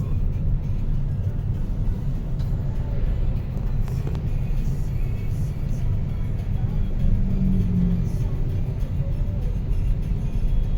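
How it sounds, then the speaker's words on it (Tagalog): Constant road traffic on a city street in Cebu, heard from inside a ride-hailing car, as a steady low rumble of engines and tires with vehicles passing, loud and unbroken throughout. "Traffic na niya."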